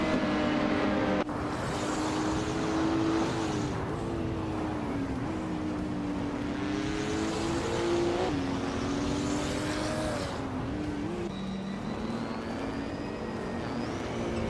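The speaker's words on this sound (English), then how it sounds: "Hingle McCringleberry is making a bold move up to first place, after overtaking 3 cars" Several race car engines roar continuously through a race, their pitch climbing and sweeping as cars pass and jostle for position, staying loud throughout with no talk.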